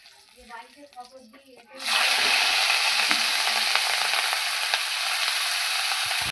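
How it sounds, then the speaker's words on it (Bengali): Spice paste of salt, turmeric and ginger-garlic hits hot mustard oil in a wok, bursting into a loud, steady broadband sizzle after a quieter opening with faint clatter, staying strong and close to the end. "কড়ায় সর্ষের তেল দিয়ে দিয়েছি দিয়ে এবার আমি এই গ্রেভিগুলো ভেজে নেব"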